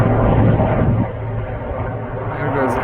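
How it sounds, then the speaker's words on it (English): A steady low engine drone with a whooshing rumble from a helicopter passing overhead, loud and continuous throughout. "There's a helicopter."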